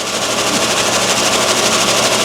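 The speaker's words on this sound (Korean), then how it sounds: "모터가 돌아가고 있죠" An electric motor runs under load in an electrical panel setup for thermal overload relay testing, giving a loud, steady, rapid buzzing rattle with no pauses.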